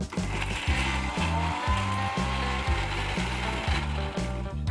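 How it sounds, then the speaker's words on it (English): An electric mixer grinder whirs, blending red chilies and lemon juice into a paste for Goan chicken cafreal, its motor pulsing in steady, rhythmic surges over a constant rattling hum. "Let's grind this into a fine paste."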